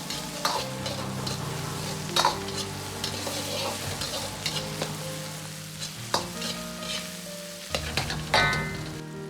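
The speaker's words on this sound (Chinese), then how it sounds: "再倒入切好的芹菜段，稍微翻炒" Celery pieces being stir-fried in a hot wok for a river shrimp dish, with a steady close sizzle and repeated sharp scrapes and clanks of the spatula against the pan, no talking.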